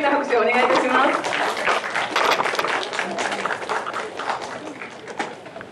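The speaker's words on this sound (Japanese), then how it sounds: "今一度皆さん大きな拍手をお願いいたします。" Audience applause after a post-screening talk at a peace-themed film event in Japan, loud sustained clapping from a crowd that gradually thins, with a voice talking over the start.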